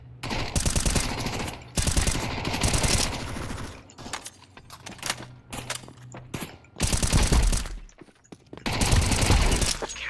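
Video-game gunfire comes in loud, dense bursts of rapid automatic shots separated by short lulls, with brief voices heard between the volleys.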